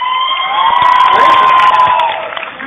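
A loud fashion show crowd cheers and whoops in a sustained roar, with a shrill whistling tone running through it, then it fades slightly at the end.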